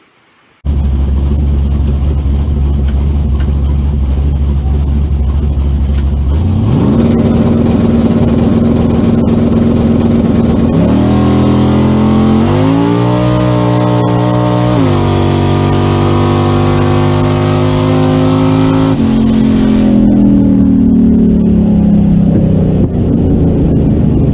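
A GM LS V8 swapped into a 1972 Chevrolet Suburban, idling loudly at first, then revving up in several stepped rises and holding higher rpm before easing back down, close and alone with no talk.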